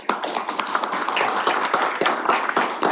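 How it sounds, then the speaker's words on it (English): A small audience at a county commissioners' court meeting claps. The claps are distinct and individually audible, forming a brisk, fairly close round of applause with no talking. "let's give them a round of applause"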